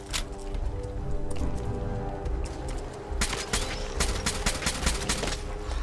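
Rapid bursts of gunfire from Fallout 4 combat, several sharp broadband cracks in quick succession over a steady game soundtrack, loud and close.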